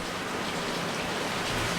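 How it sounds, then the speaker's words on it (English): Heavy rain pouring down outdoors at a homestead, a steady dense hiss of falling water with no breaks, fairly loud and close, with no voices. "It's raining so hard."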